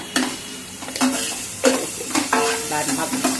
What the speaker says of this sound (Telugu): ఇది ఉల్లిపాయ దోరగా వేగే లోపు